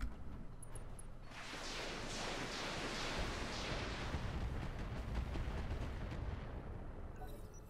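Ammunition cooks off in the Roguetech mech game: a sustained rumbling roar of explosions with rapid crackling bursts layered over a deep low boom, loud throughout before tapering slightly at the end.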